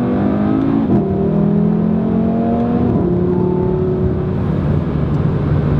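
Audi RS3 sedan with a 2.5-liter five-cylinder engine revving on downshifts, a loud steady engine drone with pitch dropping and rising as gears change, heard alone without talk.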